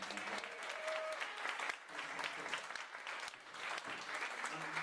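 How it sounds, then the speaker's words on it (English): A comedy show audience applauds steadily throughout, a dense, even patter of clapping that stays fairly quiet. "So we have another round of applause for Dave there."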